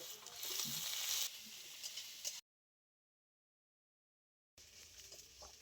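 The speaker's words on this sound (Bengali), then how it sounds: "সবকিছু খুব ভালো করে ভেজে নিয়েছি" Onion with ginger and garlic paste fries in a pan for a Bengali fish curry, a bright, hissing sizzle with stirring scrapes that drops to silence for about two seconds before the sizzle returns more softly.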